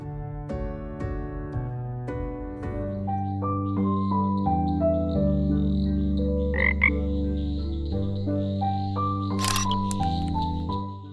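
A cartoonish frog croaks in a wholesome indie video game, repeated bright croaks over a gentle, melodic game soundtrack of plucked notes and soft chords.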